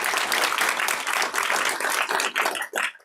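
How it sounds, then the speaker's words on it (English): An audience claps loudly and densely after a lecture on where AI can take education, a full round of applause that thins out toward the end. "Another round of applause."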